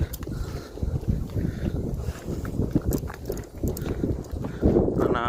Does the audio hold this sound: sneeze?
no